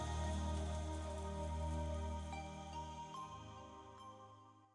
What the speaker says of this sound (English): As we listened to the sound of the rain